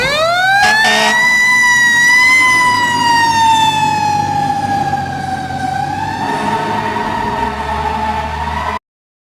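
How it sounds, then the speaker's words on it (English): A fire truck siren wails loudly and close, sweeping up and then slowly falling in pitch over a low engine rumble, with no voices. "Fire truck."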